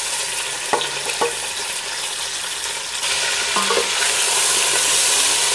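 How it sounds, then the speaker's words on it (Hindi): Chicken with onions frying in a pan for a green masala chicken pulao, giving a steady close sizzle with a few spoon or utensil scrapes and stirs, the sizzle swelling louder toward the end. "इसमें थोड़ा सा हम चिकन को भून लेंगे"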